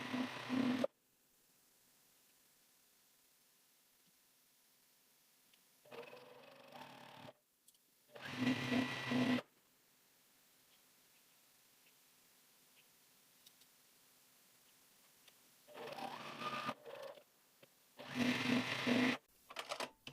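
A domestic sewing machine stitches a quilt seam in short bursts of fast, even mechanical whirring, about four runs separated by quiet pauses, close and clear with no talking.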